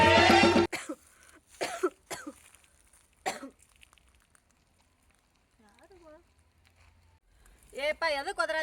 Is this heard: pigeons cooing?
no